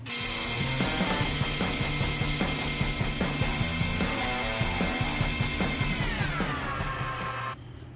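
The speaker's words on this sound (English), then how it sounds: "Let's get it turned down." A metal lathe runs steadily with a high whining tone and rough cutting chatter, continuous and fairly close, winding down near the end.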